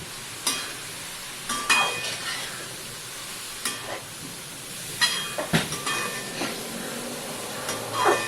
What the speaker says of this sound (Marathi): आता हा किसलेला मुळा ह्याच्यामध्ये व्यवस्थित परतून घ्यायचा आहे आणि शिजवून घ्यायचा आहे